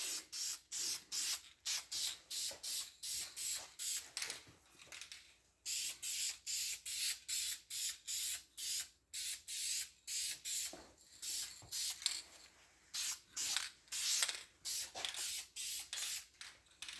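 Spray paint hisses onto a 1968 Pontiac GTO 400 intake water neck in many short, rhythmic bursts, each a second or less with brief gaps between, close and steady with no talking.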